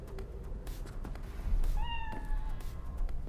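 Cat meowing in the Cyberpunk 2077 video game inside an apartment, giving a single clear meow partway through over a quiet background.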